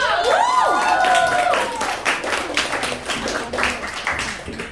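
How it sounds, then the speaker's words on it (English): Audience at a kids' comedy camp stand-up showcase cheering as the host comes to the stage, then clapping and applauding steadily with some shouts, fairly loud and close. "Don't clap that much."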